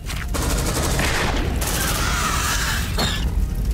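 Rapid gunfire and booming blasts from the sci-fi shooter Aliens: Dark Descent, including shotguns, crackle densely and loudly, with bursts pausing briefly before resuming.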